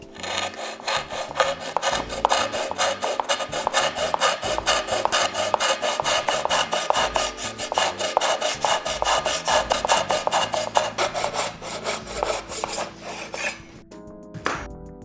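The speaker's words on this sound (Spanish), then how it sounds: "Esta pieza está sujeta por medio de dos espigas que podemos ir cortando gracias a nuestro serrucho japonés." A fine-bladed Japanese handsaw cuts through wooden dowels holding a piece of wood together, making steady, loud, rhythmic rasping strokes up close that stop near the end.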